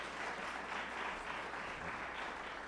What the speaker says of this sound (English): Can we have another round of applause for these fine people?